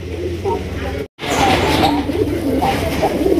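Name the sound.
Indian Kakji pigeons cooing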